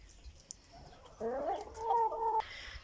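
A chicken in a coop clucks and squawks briefly in a short warbling call, close and fairly quiet, with faint background rustling.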